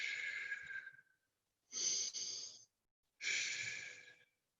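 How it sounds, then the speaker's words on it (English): Three slow, deliberate breaths drawn in through the nose and pushed out through the mouth, each an airy rush lasting about a second, separated by short silences, close and soft with no talking. "In through the nose, out through the mouth."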